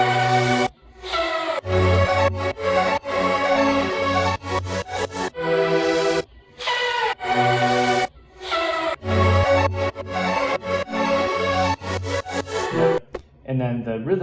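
Several synths layered together in an electronic song production, loud and sustained with chopped, gated rhythmic cuts and brief dropouts between sections.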